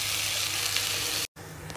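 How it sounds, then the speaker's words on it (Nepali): Onions frying in hot oil for biryani, a loud, steady, close sizzle that cuts out briefly and resumes, with no talking. "अब यो बिरयानीको लागि यो प्याज चाहिँ मैले पहिले फ्राई गर्छु"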